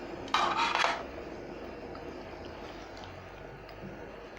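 A spoon stirring egg and chickpea curry in a pot, a short burst of metallic clatter and scraping at the start, then a quiet, low simmering background.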